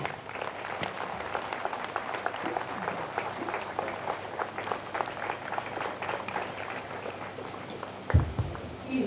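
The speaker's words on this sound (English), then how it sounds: "A round of applause for our First Lady, Mrs. Rebecca Akufo-Addo." A crowd applauds for First Lady Rebecca Akufo-Addo at a public event, steady moderate clapping throughout with a brief louder thump near the end.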